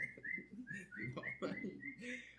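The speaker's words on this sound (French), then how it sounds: "Un oiseau commence à chanter très fort." A bird sings loudly in a run of short, rising whistled notes at a quick, uneven pace, over a faint low background.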